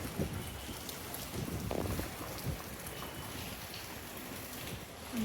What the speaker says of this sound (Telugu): తిరుపతిలో గాలి వాన ఎట్లా పడిందో చూడండి